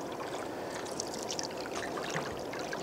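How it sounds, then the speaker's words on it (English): Small rapids on the Kipawa River heard from a canoe near the shore, a steady faint rushing wash of water with soft splashes, no voices. "I'm sure you can hear the rapids by now."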